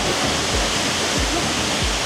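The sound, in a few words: waterfall in Iceland heard from behind the falling water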